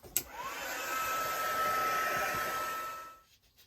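A hair dryer blows steadily across a painted art journal page, drying red paint before green goes on, starting with a click and running loud and continuous for about three seconds before cutting off.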